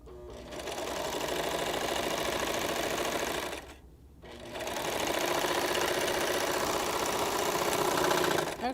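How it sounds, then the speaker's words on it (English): A serger runs fast, overlocking a seam on a small sewn dress: a dense mechanical whirring chatter close by, pausing briefly midway before starting up again at full speed, with no voices. "I'm just finishing them off with a serger"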